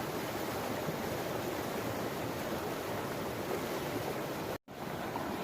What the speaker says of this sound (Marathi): तर ही आमच्या गावची पातळदेवी नदी आहे